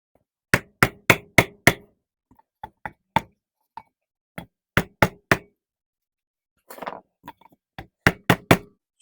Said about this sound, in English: I put a piece of wood on it, and then I tap on it so it starts pressing it into the rotor evenly